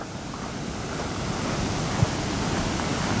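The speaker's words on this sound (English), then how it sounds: "we're right in front of a larger dam" Water rushing over a large dam on the Maury River, a loud steady roar of broadband noise with a short click partway through and no voices.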